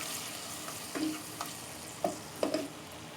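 Chopped peeled tomatoes hit hot garlic in a pan for a vegetable tikka dish, giving a soft sizzle with a few short spoon scrapes and stirring clinks, quiet and close.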